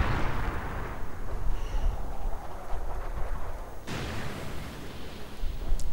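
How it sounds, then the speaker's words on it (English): Artillery fire in a real-time strategy video game battle, heard as a continuous low rumble of distant booms with a sharper blast near the middle, no talking. "Oh, more artillery against the mortar, I think."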